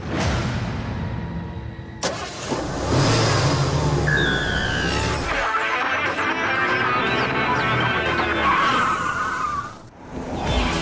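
A 2015 Mazda 6 on the road, engine revving and accelerating with a rising whine, tire and road noise throughout and a brief drop near the end; no voices.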